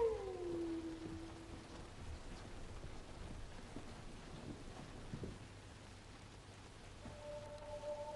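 Rain falls steadily in a dubbed drama scene, a soft continuous hiss with a low rumble of thunder beneath, while faint tonal sounds come and go at the start and end.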